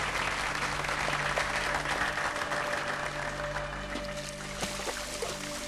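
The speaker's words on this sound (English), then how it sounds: "I hope you join me in applauding their presence here." An audience in a formal hall applauds diamond industry members, broad sustained clapping at an even level with a faint background hum.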